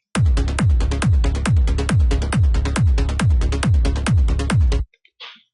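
Sidechained trance bass pumping against a four-on-the-floor kick drum in FL Studio, eleven evenly spaced loud thumps with the bass swelling between each, then a sudden stop and a short faint tail.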